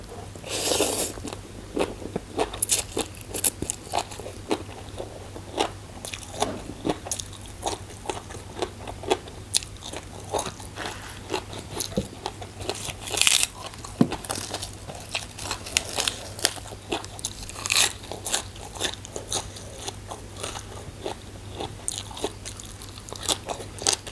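Someone crunches and chews crispy noodles alongside a spicy Lao-style fresh shrimp salad, with steady, close and loud bites and mastication throughout, plus occasional crinkling.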